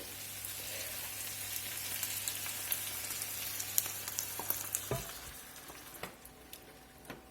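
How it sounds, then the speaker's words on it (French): Broth poured into a pan of frying chicken for a creamy brown mushroom sauce, a loud, dense crackling sizzle that runs steadily throughout over a low hum, which cuts out midway, with no talk. "Maintenant, j'ajoute un peu de bouillon."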